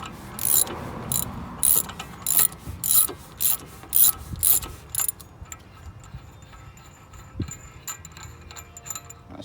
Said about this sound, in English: finish loosening up your axle nut.